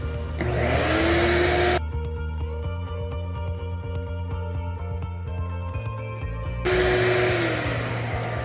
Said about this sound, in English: Vacuum all this up really quick.